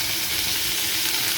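Spice masala fries in a pan with a constant, dense sizzle, close and steady throughout the short stretch, no talking.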